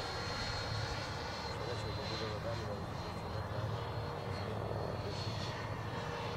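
A Freewing MiG-29 Fulcrum model jet with a problematic battery flying in an emergency, a continuous loud rushing roar of its ducted-fan engines that holds steady throughout, with a voice faintly beneath it.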